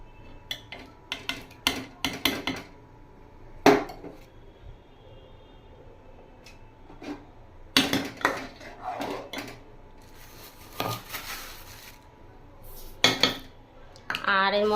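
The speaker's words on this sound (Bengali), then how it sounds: "এই যে চিনিটা আমি দিয়ে দিচ্ছি" Spoon scraping and clinking against a metal pot while sugar is stirred into homemade Bengali rice pudding (payesh), in irregular sharp taps and scrapes with quiet gaps between.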